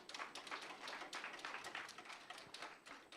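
An audience at the 7th East African Youth Parliament claps steadily for about three seconds, a dense and fairly quiet patter of many hands that holds an even level without pauses.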